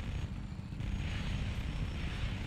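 An enemy fighter jet in the video game Just Cause 3 roaring past, a steady loud jet rumble with broad engine noise, no voices over it.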